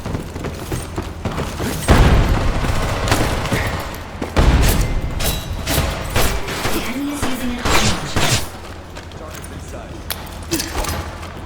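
Grenade explosion and gunfire in an online shooter game, with two heavy booms amid scattered shots and clatter, while a player talks over the action.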